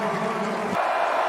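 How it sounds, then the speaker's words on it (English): Football stadium crowd at South Carolina versus Clemson rising into a broad, loud roar, with a low rumble dropping away midway while the bright cheering noise holds steady. "It gets loud and the crowd gets involved."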